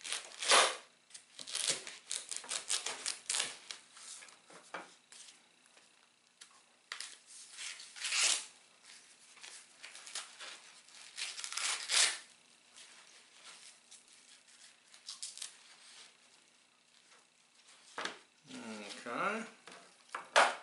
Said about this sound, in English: now we're going to see how our little knives do on corn